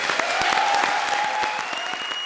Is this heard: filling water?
no